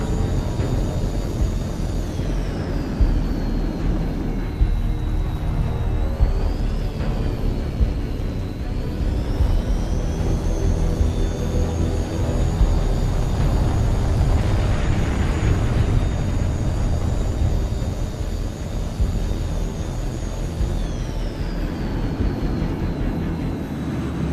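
A jet fighter engine roars continuously in the flight combat video game H.A.W.X. 2 during a training mission, a steady loud whine and rumble with slight pitch shifts as the aircraft maneuvers.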